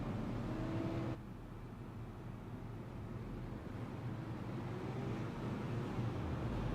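Super late model race cars roar past the start-finish line during a Wisconsin 100 race, sounding as a continuous dense engine drone at moderate distance with slight swells. No voices are heard over the engines.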